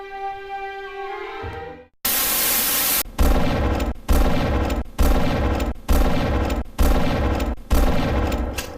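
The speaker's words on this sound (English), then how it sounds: "Sounds like a gun battle outside our studio." Loud gunfire bursts repeat in a steady, evenly spaced rhythm, a dense volley roughly every second, following a brief tonal sound and a moment of silence.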